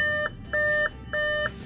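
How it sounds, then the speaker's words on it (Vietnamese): Door-open warning chime from a 2016 US-import Audi Q5 2.0T Quattro, a steady electronic tone repeating in even on-off pulses, close and clear, with no talking. "đang mở cửa cho nên nó tút tút quý bạn ạ."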